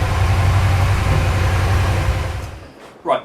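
A Porsche 928 engine runs at full temperature with a rough, weak mixture, giving a loud, steady low rumble that fades near the end before a brief clunk.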